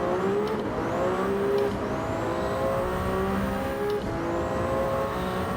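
Race car lapping a circuit in the video game Gran Turismo 7, its engine droning steadily with rising harmonic sweeps as it accelerates and shifts through gears, loud and continuous with no talking.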